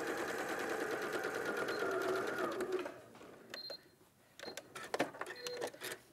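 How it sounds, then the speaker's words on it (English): Sewing machine sewing across the shoulders of a garment: a close, continuous buzzing whir for about three seconds, then stops, followed by scattered quiet clicks and handling taps. "And then we're just going to sew across the shoulders."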